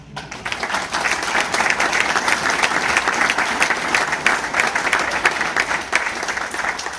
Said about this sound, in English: Donald Linwood Dogan and Sheila Letha Dogan, you guys can take a bow and clap your hands